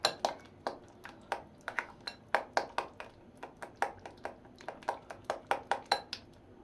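A spoon stirs cake batter with oil and baking powder in a bowl, tapping the sides in a steady run of sharp, bright clinks, close and alone with no talking.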